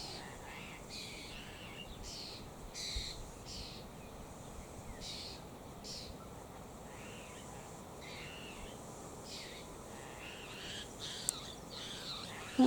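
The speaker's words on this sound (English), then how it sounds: "That's the sound of apostle birds" Faint, scratchy apostlebird calls repeat in short bursts over a steady hiss of wind or ambient noise, sounding fairly distant.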